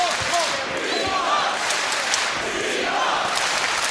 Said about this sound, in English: Crowd chanting behind their hometown girl.